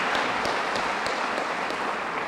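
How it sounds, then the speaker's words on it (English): Audience at a police department awards banquet applauding steadily, a dense wash of many hands clapping throughout at moderate loudness. "Can we please get a round of applause for Sergeant Zuniga and his family?"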